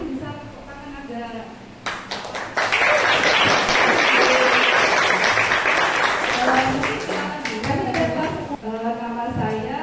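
An audience applauds at a community workshop on coding and future skills in Indonesia, breaking out after a woman's speech and swelling into loud, sustained clapping before fading as her voice resumes.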